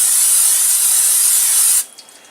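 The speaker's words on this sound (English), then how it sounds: "I'm just going to spray this" Cooking spray sprays in one continuous loud hiss into an enamel-coated cast iron Dutch oven over medium-high heat, close up, for almost two seconds, then cuts off abruptly.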